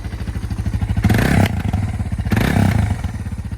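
A Suzuki DR650 motorcycle fitted with a GSXR muffler and Procycle mid pipe idles with a loud, steady thumping beat, blipped twice to higher revs before settling back.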